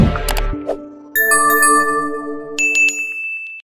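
A bright notification bell chime rings out, a few clear ding-dong tones with shimmering ringing overtones, loud and alone with no voices.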